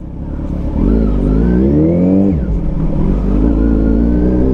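Cars passing on a road, a loud close engine rising in pitch as it accelerates past, then another vehicle's steady drone following behind.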